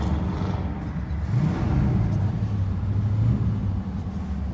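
A 1968 Ford LTD with a 390 V8 on a low battery starting up and running, a close, steady low rumble with a slight rise in revs, no talking.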